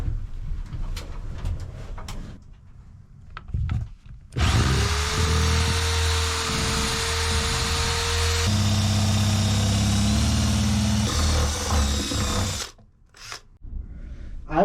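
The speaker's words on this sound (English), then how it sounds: "Now I am drilling holes for the wiring." A power drill bores holes for wiring in plywood in a cabin build, running loud and sustained for about eight seconds between quieter handling noises, with birds faintly audible in the background.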